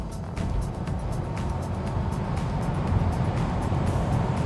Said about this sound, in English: Let's go for a drive down the motorway.